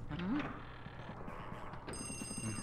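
A telephone rings inside the haunted mansion in the video game Luigi's Mansion, a repeated electronic ring heard under game music and soft speech, moderately close.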